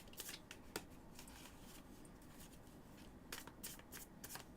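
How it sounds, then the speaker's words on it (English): Matte-finish tarot cards are shuffled in quick riffling bursts, close and fairly soft, with brief pauses between flurries of papery flicks and no voices. "so I'm shuffling them"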